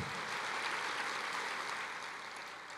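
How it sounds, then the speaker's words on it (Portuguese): A church congregation applauds, producing a dense, continuous wash of clapping at moderate distance that holds steady and begins to ease near the end. "Aplauda o Senhor."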